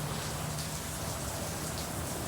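Steady, dense rinse spray from an Istobal M'NEX22 car wash hissing and drumming on a car, close and continuous with no voices.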